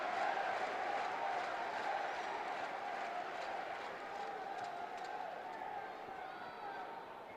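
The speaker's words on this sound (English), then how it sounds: "Great noise sweeping around this ground" Broad roar of a football crowd at the Aku Stadium during a Leicester City vs Huddersfield match, a steady wash of distant noise sweeping around the ground with no clear talk on top.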